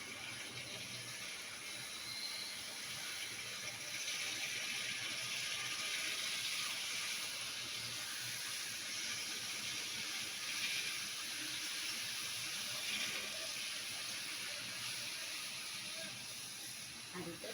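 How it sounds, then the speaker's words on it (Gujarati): Steady hiss and sizzle of rajgira flour sev pressed into hot oil, a constant bubbling frying sound holding level throughout, fairly quiet with no speech over it. "તો હવે આપણે એમાં સેવ પાડીશું."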